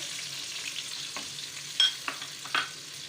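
Onion paste and green chillies fried with chicken in a pan, a soft steady sizzle with a few brief scrapes and clinks from stirring.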